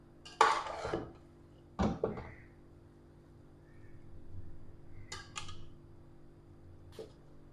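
Dhaba-style dal mash fry being served out into a dish: a few close clinks and scrapes of a spoon against pots and dishware, separated by quiet pauses.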